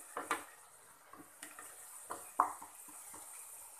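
A spoon scrapes and clinks in a pan of Amritsari chole aloo curry, several soft stirring strokes with a few sharper knocks against the metal over a quiet background.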